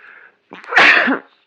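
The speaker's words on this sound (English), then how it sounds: "So I've been sneezing nonstop." A single close, loud sneeze, preceded by a faint breathy intake and ending in a sharp burst that fades quickly.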